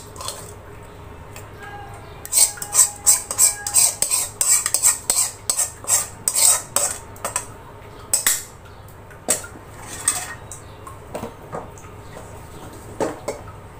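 A metal spoon scrapes and taps against a biryani pot while spices are spread over boiled eggs, a quick run of sharp clinks and scrapes that thins to scattered taps.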